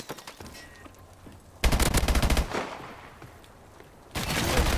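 Rapid automatic gunfire from a machine gun in a Call of Duty Exo last-man-standing match: a loud close burst of rattling shots, then a quieter stretch, then another heavy burst near the end.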